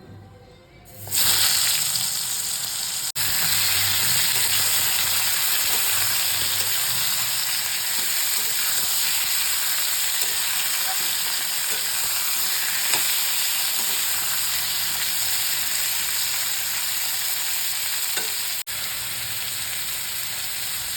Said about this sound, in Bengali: আমার আলুটা ভাজা হয়ে গেছে, এখন ঝিঙেটা ভেজে নেব।